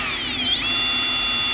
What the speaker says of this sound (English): Grab our drill and our spider.